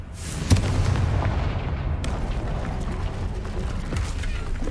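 Confringo fire spell exploding in Hogwarts Legacy: one sudden blast followed by a dense, rumbling roar that continues at a steady, loud level to the end.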